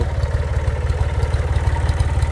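A tractor engine idles steadily close by, its low, rhythmic chugging throbbing evenly with a clattery mechanical edge and no voices.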